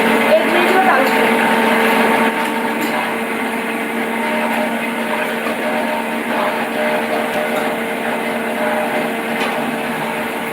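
A mixer grinder whirs steadily as it blends spinach into a smooth paste, a loud, continuous motor drone that eases slightly after the first couple of seconds.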